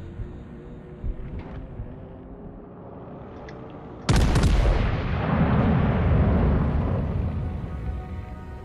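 Naval artillery salvo in World of Warships: Legends, a sudden loud blast after low rumbling game ambience, followed by a sustained roaring, crackling wash of noise that slowly fades.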